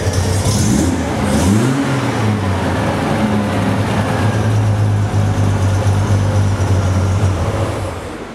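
A 1974 Triumph TR6 sports car engine runs loud and steady, rising and falling in pitch as it revs, then holds a sustained idle-like drone up close.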